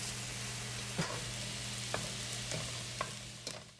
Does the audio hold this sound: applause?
no